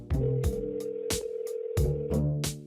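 A telephone gives electronic tones while a call is placed, sustained steady pitched tones broken by short regular clicking bursts, fairly close and clear, with no talking over them.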